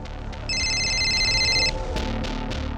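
An electronic ringtone from a telephone in a police crime drama, heard as a steady tonal ring that lasts over a second over a low background bed, with no talk.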